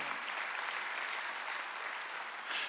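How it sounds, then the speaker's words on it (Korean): A congregation applauds during a Sunday church service, a dense, even patter of clapping hands that holds steady and swells slightly at the very end, with no talking over it. "박수"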